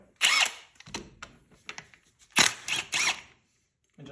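Power tool removing the starter clutch on a Yamaha Warrior 350 ATV, heard as several short mechanical bursts with brief gaps between them, close and fairly loud with no talk over it.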